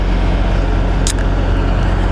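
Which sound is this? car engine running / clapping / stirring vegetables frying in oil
car engine running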